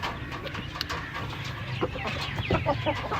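Chickens cluck and murmur close by, making short repeated calls over steady farmyard background noise.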